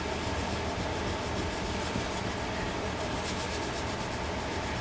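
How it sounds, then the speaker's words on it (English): An art gum eraser rubbed over the built-up airframe of an F-14D Tomcat model aircraft, a close, continuous soft scrubbing and rasping that runs steadily throughout with no talk. "I'm just going over all this right now with a art gum eraser to get rid of any kind of marks"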